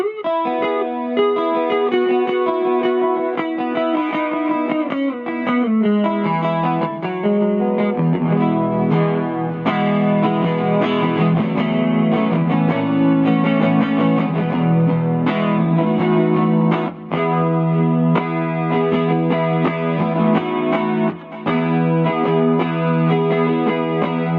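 A Stapleton Aurora electric guitar on its neck pickup plays warm, rounded notes and chords with a touch of effects, continuous and fairly loud with no talking.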